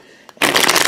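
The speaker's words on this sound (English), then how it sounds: "Stephen, I'm sorry you guys are hearing me shuffle these cards, but gotta shuffle" Tarot cards being shuffled by hand, a short quiet tap followed by a sudden loud, crisp riffling burst of cards flicking together at close range.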